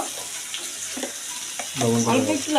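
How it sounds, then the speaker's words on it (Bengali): Catla fish oil sizzles steadily in a pan as turmeric and salt are stirred through it, with a continuous close frying hiss and occasional scrapes of the spoon. "লবণ দিয়ে দিয়েছি, নেড়ে নিব"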